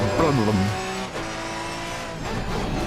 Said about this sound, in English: What happens if I intentionally run across here? Oh yeah. You hear the bump stop.